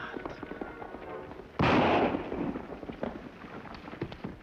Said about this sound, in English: Rifle shot come from road, maybe.